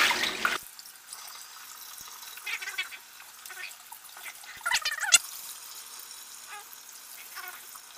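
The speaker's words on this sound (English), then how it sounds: "So rinse off the bird." Cool tap water runs over a whole raw turkey being rinsed off, a soft splashing, trickling flow with intermittent louder splatters as the bird is moved under the stream.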